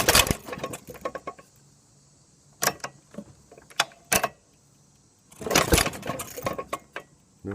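A 1937 Maytag 92 engine has its flywheel turned by hand against compression, giving bursts of mechanical clatter, clanks and rattles, loud and close, separated by quiet gaps.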